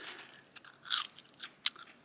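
Several crisp, close crunches of crispy fried potato chips, bitten in quick irregular succession, with no talking.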